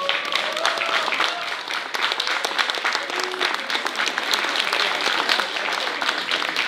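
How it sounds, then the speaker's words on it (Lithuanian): An audience at a stage event gives a steady, dense round of applause, many hands clapping continuously at an even level throughout, with no pause or tail-off. "O dabar audringais plojimais norėčiau į sceną pakviesti Vincentą Kursą."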